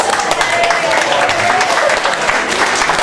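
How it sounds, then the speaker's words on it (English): An audience at a meet-and-greet aboard the cruise ship Dawn Princess applauds the cruise fairy, loud continuous clapping with voices talking over it. "Would everybody like to give our fairy a round of applause?"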